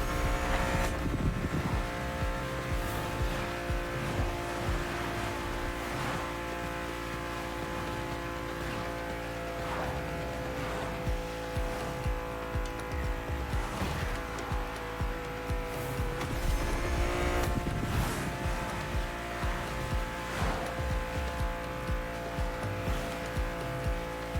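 BMW car engine in the racing video game The Crew Motorfest, a steady loud drone with shifting harmonic tones and occasional transient bursts, running continuously without speech throughout.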